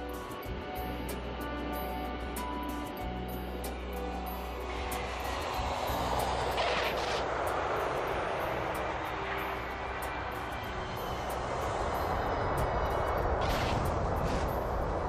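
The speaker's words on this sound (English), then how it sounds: "And now the Pan Am is arriving, just to make matters worse." A Pan Am airliner on final approach to land roars steadily as a broad, continuous loud rumble of jet engines with a constant low hum, with no talk.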